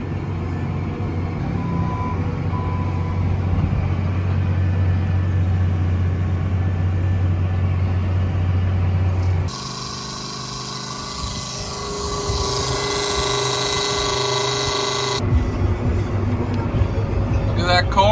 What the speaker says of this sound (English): Got 2 tractors going in this other field.